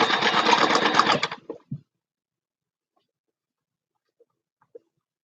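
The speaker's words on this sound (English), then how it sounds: "I'm stitching with white and a yellow thread here" Sewing machine stitching small bags from leftover satin fabric scraps with white and yellow thread, a steady close whirring run of about a second and a half that stops abruptly, followed by near silence with a couple of faint clicks.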